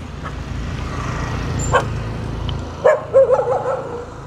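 A few short dog barks ring out, somewhat distant, over steady outdoor traffic noise.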